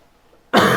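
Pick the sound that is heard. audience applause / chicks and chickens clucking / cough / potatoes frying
cough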